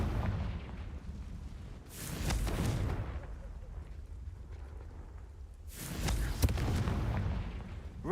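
Two booming blasts of the Confringo spell in a Harry Potter–style video game, each a sudden loud burst that rumbles and fades over a few seconds, spaced well apart against a low ambient bed.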